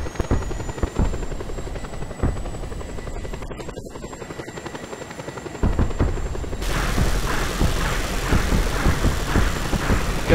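A helicopter in the video game Just Cause 2 sends out a steady, fast rotor chop throughout, loud and close, and the sound shifts brighter partway through as the view or position changes.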